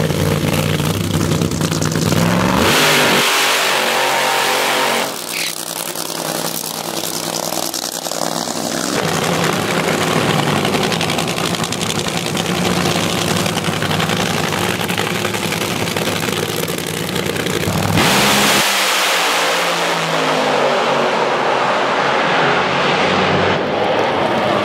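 A drag race car makes a full-power pass at a track event, a loud sustained engine roar that rises sharply, holds for about fifteen seconds and then drops, with crowd noise underneath.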